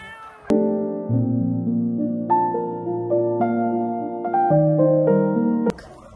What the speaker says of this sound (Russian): Кошка первая с котятами пришла кушать.